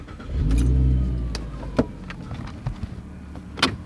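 A V6 Ford Mustang engine cranks and catches, swelling into a loud, low rumble close by before settling to a steady idle, with a few clicks and small knocks inside the car.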